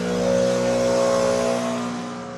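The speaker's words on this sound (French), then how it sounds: "Là c'est parce qu'ils sont en train de faire la tonte." Steady engine drone of lawn mowing nearby, a continuous even hum with a slight swell that fades gently toward the end, no voices over it.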